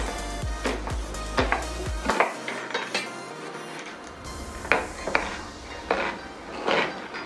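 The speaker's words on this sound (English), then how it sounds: "let's go ahead and start dicing this" Onion being diced with a knife on a cutting board while making breakfast egg rolls, heard as a quick run of sharp, close chops that stop briefly and then resume as scattered taps and knocks, with no talking.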